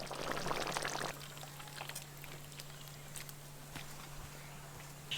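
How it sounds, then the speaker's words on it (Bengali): Cooked fish curry poured out of a pot on a village clay stove gives a brief wet pouring splash at first, then faint clinks and scrapes over a low hum. "মাছের রসা হয়ে গেছে, এবার ঢেলে নেব।"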